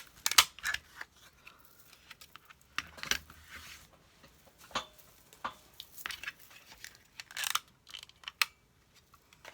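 Scissors snip through paper while a holiday card is trimmed, with a scattering of quiet, crisp cuts at irregular intervals, close by and without talking.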